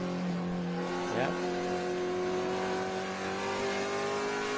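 A race car at Watkins Glen accelerates and then downshifts through the bus stop chicane, its engine note rising steadily with a quick blip of revs in the middle, while a commentator talks over the sound.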